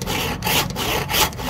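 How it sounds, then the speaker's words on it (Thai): An old hand saw rasps through wood in quick back-and-forth strokes, about four rough strokes, loud and close. "นี่คือเลื่อยเก่าเลยครับกว่าเราจะเลื่อยได้ใช้แรงจนที่เลย"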